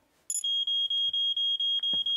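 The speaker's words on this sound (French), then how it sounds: "Et j'ai un détecteur de fumée comme tu me l'as demandé." A smoke detector being tested in a French-dubbed firefighter cartoon: a loud, piercing high alarm tone that starts abruptly and pulses in rapid, regular bursts, close and shrill, with brief noises beneath near the end.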